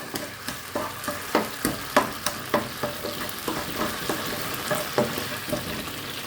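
A little water goes into a hot pan of sugar syrup for Bengali chira bhaja, bubbling and sizzling steadily while a spoon scrapes and stirs in an irregular rhythm, close by with no talking.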